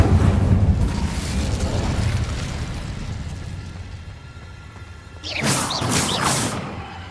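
Incendio fire spell cast in the video game Hogwarts Legacy, a rushing roar that fades over several seconds, then a bright crackling flare bursts in near the end, loud and close with no voices.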